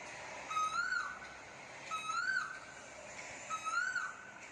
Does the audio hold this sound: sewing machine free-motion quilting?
no